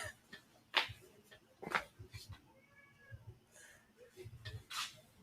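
A house cat meows several times in short, distinct calls spaced across a few seconds, close and fairly quiet against a low indoor background.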